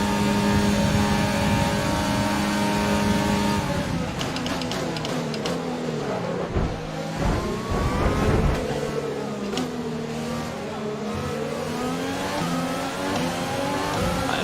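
A Ferrari Formula 1 car roars through a race in the F1 2020 video game, its engine revving high and climbing through gears, dropping and rising again with downshifts, loud and close throughout with no talk.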